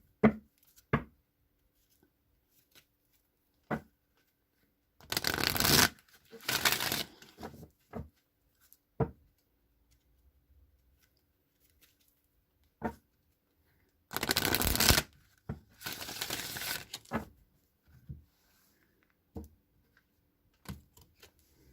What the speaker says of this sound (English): So I'm going to go ahead and shuffle this deck 3 times and cut the deck,